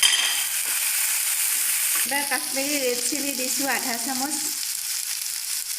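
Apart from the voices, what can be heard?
frying turmeric and spices in oil for dal tarka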